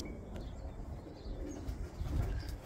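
Vouta pigeons coo softly outdoors, a low steady murmuring coo running through the whole stretch over faint background noise, swelling slightly near the end.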